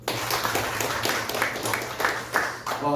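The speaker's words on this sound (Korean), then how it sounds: "박수 한번 칩시다." A church congregation at a Sunday service claps together in a brisk, evenly spaced rhythm, the beats distinct and moderately loud over a low room hum.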